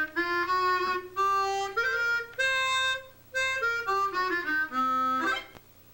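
A blues scale on a large 64-style chromatic harmonica with a slide button, reedy chordal-rich notes rising then falling in short held steps, loud and close, played alone without speech.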